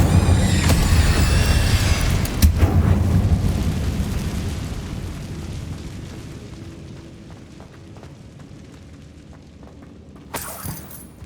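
Incendio fire spell cast in the video game Hogwarts Legacy, a loud crackling blast with shattering debris up front that decays into a long fading rumble, then a sharp second burst near the end.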